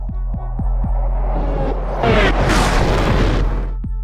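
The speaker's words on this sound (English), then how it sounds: "The 30mm cannon, that's Thor's jackhammer" A 30mm cannon fires from an AJS-37 Viggen jet in the DCS combat flight simulator, with a few sharp thuds, then a loud, rumbling burst of blasts and a final crack.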